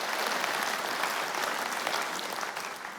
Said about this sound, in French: Je crois qu'on peut applaudir effectivement.